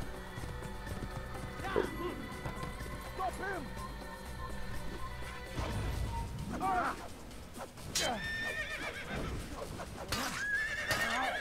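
A horse neighs and whinnies several times in the Assassin's Creed video game, with clip-clop hoofbeats and game sounds around it and someone talking over parts of it.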